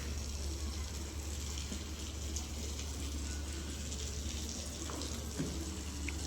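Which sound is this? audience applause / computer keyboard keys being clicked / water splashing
water splashing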